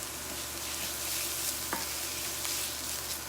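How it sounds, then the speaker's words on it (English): Garlic paste frying in oil in a pan for halibut puttanesca while being stirred, a steady close sizzle with a few scraping strokes. "Give this a stir."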